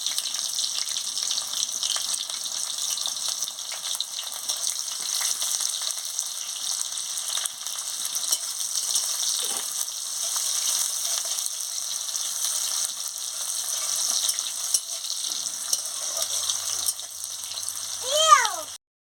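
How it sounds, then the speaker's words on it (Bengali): Onions frying in a pan with a steady, loud hiss and sizzle throughout, a brief scraping stir now and then and a short squeaky sound near the end. "পেঁয়াজ দিয়ে দিচ্ছি"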